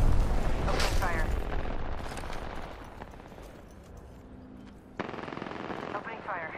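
Rapid automatic rifle bursts from the Flatline in Apex Legends, a loud rattling volley at the start and another from five seconds on, with game voices talking in between.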